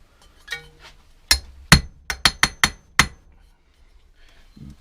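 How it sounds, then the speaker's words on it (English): Sharp metallic hammer strikes on a Briggs & Stratton lawnmower engine part ring out, about seven blows in an uneven rhythm, close and loud against a quiet background. "and use a hammer, and this should come off"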